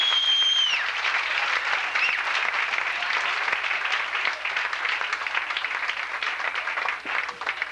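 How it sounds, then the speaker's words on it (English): A comedy club audience at the 1984 Comedy Cottage breaks into loud, sustained applause that stays dense and steady for the whole stretch, a full room of clapping hands with no pause. "Please welcome, warm round of applause"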